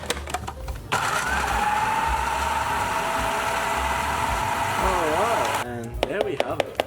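A food processor blitzes chermoula made with ground cumin, spices and olive oil, a loud steady whirring motor that runs continuously for several seconds, starts abruptly and cuts off near the end.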